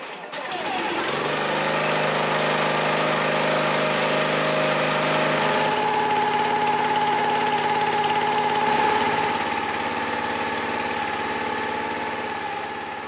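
A Briggs & Stratton 6.75 engine on a log splitter cranks and catches, then runs steadily at a loud, constant idle with a mechanical drone that shifts slightly in pitch midway, close and without talk.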